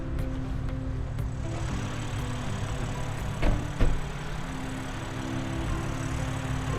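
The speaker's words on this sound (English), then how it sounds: "Double overhead cam, 24-valve twin power turbo straight 6-cylinder engine." BMW M4 Competition from 2021 with an S58 twin-turbo straight-six, idling steadily at a track with a low, even hum and a couple of brief louder blips.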